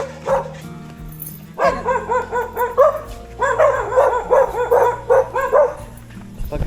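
A dog barks repeatedly in quick bursts, loud and close, with short yips and a whimpering tone between runs of barks, outdoors after rain.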